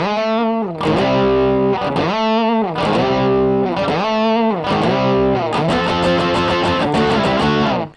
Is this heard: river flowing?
no